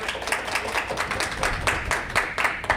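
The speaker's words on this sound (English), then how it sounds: "We want to give Anne a round of applause." Audience applause at a Thursday coffee talk, steady clapping from a modest crowd in a room, lasting a few seconds with no talk.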